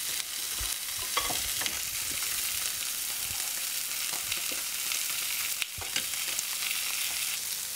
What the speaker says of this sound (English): butter into the pan and then put our cabbage into the pan as well